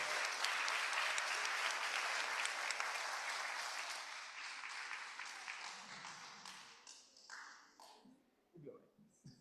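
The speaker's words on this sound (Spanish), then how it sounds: "Un fuerte aplauso. A round of applause." Audience applause at a professional learning day event, a dense crowd clapping loudly at first, then thinning out and fading toward the end into a few scattered claps.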